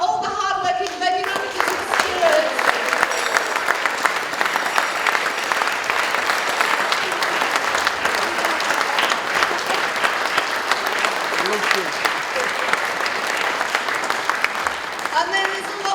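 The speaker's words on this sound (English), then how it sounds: "can we have a round of applause for all the hard-working venue managers and stewards?" A folk festival crowd at Banbury Folk Festival applauds the venue managers and stewards, with loud, sustained clapping from a large audience, full and even throughout, with some voices mixed in at the start.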